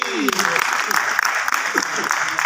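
A theatre audience claps for a superstar actress at a stage drama inauguration, dense continuous applause with a voice or two calling out over it.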